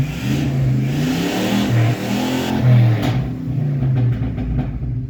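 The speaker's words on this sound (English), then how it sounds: "So I got a little bit of backfire, not the carb" Engine of a 1985 K20 truck running slightly rich, revving with a rough, pulsing low rumble up close, with a few faint popping sounds of backfire near the end.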